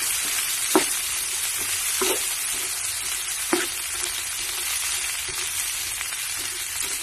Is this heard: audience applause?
no